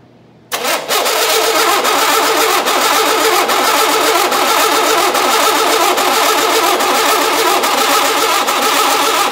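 A truck engine, jump-started with jumper cables from another battery, cranks briefly, then catches and settles into a loud, steady, close running rumble that holds to the end.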